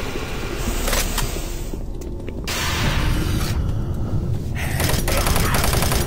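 Rapid gunfire from the Doom 3: Resurrection of Evil video game, dense bursts of automatic shots rattling almost continuously, loud and sustained with brief dips between volleys.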